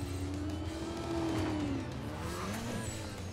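A Mitsubishi Lancer in Need for Speed Most Wanted drives at steady speed, its engine droning with a rising and falling pitch as it shifts, the tone continuous and close throughout.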